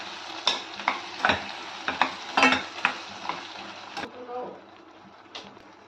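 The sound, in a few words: stirring spices into cauliflower masala curry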